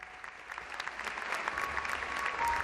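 A crowd at an honours ceremony in Las Palmas de Gran Canaria applauds steadily, a continuous wash of clapping at moderate distance that swells slightly toward the end.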